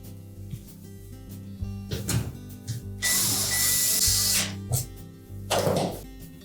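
A power screwdriver drives three screws to secure a replacement convection fan motor in a Samsung range, with loud whirring bursts mixed with clunks and handling noises.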